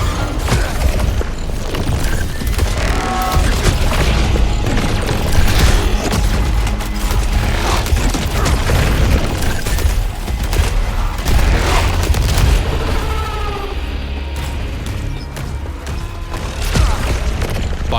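Soltari Shield in the sci-fi action game Saros soaking up incoming enemy projectiles, a dense, continuous barrage of booming impacts and mechanical clatter with rapid gunfire-like bursts layered over a thick low rumble.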